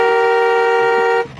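A loud, steady car horn blares for over a second, then cuts off, leaving faint background noise.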